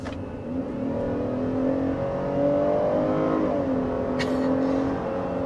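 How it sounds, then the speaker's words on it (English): A 2023 Chevy Traverse's naturally aspirated V6 revs steadily, a smooth, close, continuous engine drone that climbs and holds for several seconds with no talking over it. "I will say that this V6 sounds a little bit more meaty"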